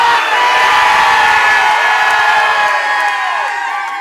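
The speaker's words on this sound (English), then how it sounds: "I want to hear the crowd shout, "Dunk it!"" An audience at a talk shouts in unison and then cheers loudly, a dense roar of voices that holds for several seconds and fades slightly at the end.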